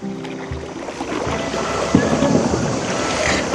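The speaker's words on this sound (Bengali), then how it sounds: "সুমনদাকে দেখো নৌকা চালাচ্ছে" A boat moving over a river with a steady low engine-like drone, wind buffeting and lapping water throughout, fairly loud and continuous.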